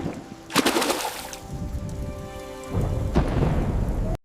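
Heavy rain pours down steadily with sharp cracks and rolling rumbles of thunder, loud and close, with a big burst near the start and another swell toward the end.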